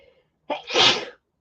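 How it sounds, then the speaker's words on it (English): A single loud sneeze, a brief sharp intake followed by a bursting, breathy explosion, close and alone with silence around it. "I'm going to sneeze."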